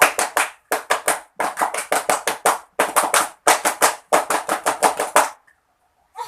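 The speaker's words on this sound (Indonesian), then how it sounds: "2 kali tepuk pramuka" A group in a counseling session performs the rhythmic scout clap (tepuk pramuka) twice, crisp patterned bursts of unison claps separated by short pauses, ending in silence.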